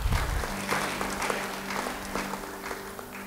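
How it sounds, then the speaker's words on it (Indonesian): Church congregation clapping together, a sustained, even patter of many hands at moderate level over a low steady hum. "Yang percaya beri tepuk tangan."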